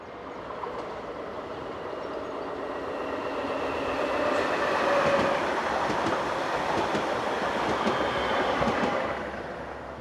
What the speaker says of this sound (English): in advertising livery approaches the camera from the north with a train for Graz